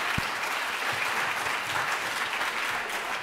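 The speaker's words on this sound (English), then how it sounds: "So a round of applause" Audience applause at a talk on documentary filmmaking, steady dense clapping throughout, moderately loud and unbroken for a few seconds.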